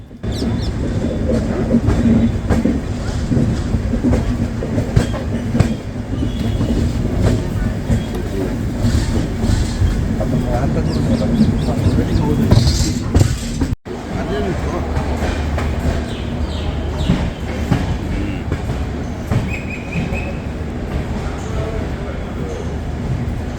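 Train running on rails on approach to Rajkot, on the Ahmedabad route, with a steady loud rumble of wheels and carriage noise throughout, voices talking over it.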